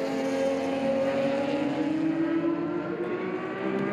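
Classic touring race car in a Heritage Touring Cup race accelerating and braking into the last corner, a distant engine wail rising steadily in pitch and then easing off, heard alone.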